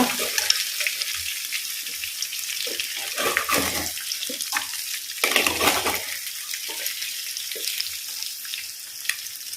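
Egg curry ingredients sizzle steadily in a pan while being stirred, a continuous crackling hiss broken by soft scraping strokes, close up and with no voices.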